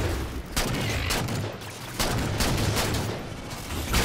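Gunfire in the Halo 4 campaign: loud, dense bursts of weapon fire and booms that come in waves and fill the whole clip with battle noise.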